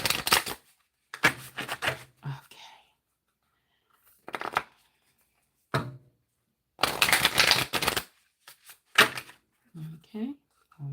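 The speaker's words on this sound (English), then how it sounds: "Shuffle the cards. Get them all good." A deck of reading cards is shuffled in several intermittent bursts of crisp riffling and flicking, close and clear, between stretches of silence, with a person speaking at times.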